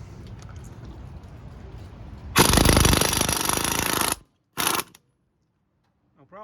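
A Husky 1/2-inch stubby impact wrench, powered by a 6-gallon air compressor, hammers loose a lug nut torqued to 140–150 on a one-ton pickup. A loud rattling burst of nearly two seconds is followed by a brief second burst, then silence.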